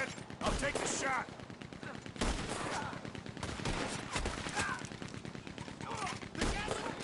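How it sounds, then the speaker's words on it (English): Gatling gun fire in Red Dead Redemption 2, rapid bursts of shots over game sound and shouting voices, dense and repeated throughout at moderate distance. "He's firing! Hell, that gun can shoot!"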